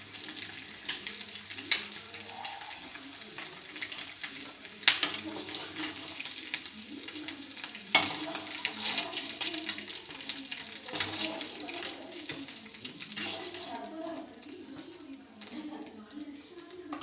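Egg frying in a pan, a steady close sizzle and crackle with occasional stirring scrapes, carrying on throughout under a faint voice in the background.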